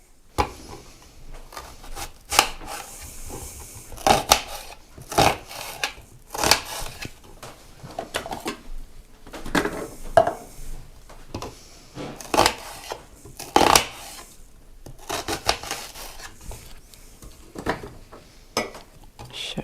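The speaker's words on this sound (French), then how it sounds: "je vais hacher les courgettes grossièrement, pas en purée" A knife coarsely chops courgettes for a tourtière, giving irregular sharp knocks on a board with scraping in between, fairly close, and a voice heard faintly at times.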